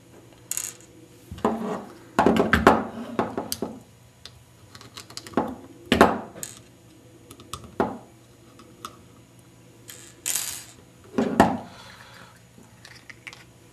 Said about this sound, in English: take our 5/64 wrench, and we'll want to go ahead and take the grips completely off